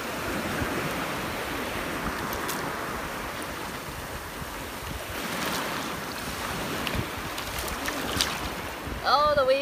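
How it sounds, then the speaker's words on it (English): Ocean waves wash onto a beach, a continuous rushing surf with swells building and breaking, heavily buffeted by wind noise on the microphone. "Oh, the wave just came and took them all."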